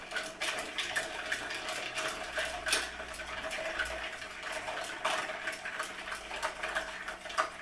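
Ice clinks and rattles in a mixing glass as a Manhattan cocktail is stirred, a quick, irregular run of light ticking taps over a soft background for several seconds.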